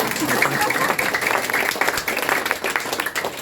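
An audience at a motivational business seminar claps in a lively, steady burst, with scattered voices mixed in.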